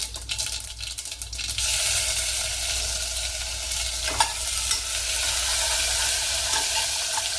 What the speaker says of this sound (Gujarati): જીરું મસ્ત થઈ જાય, છતડાઈ જાય